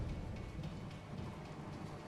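Steady rain and a low rumble of thunder in the video game A Way Out, a dense continuous hiss with a soft distant roll underneath and no voices.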